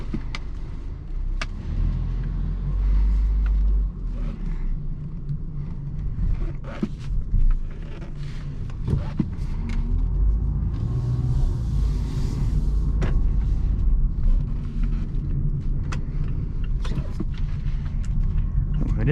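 Inside the cabin of a 2019 Mazda CX-3 GS on the road, a steady low engine and road rumble runs throughout, with occasional thumps and faint rattles.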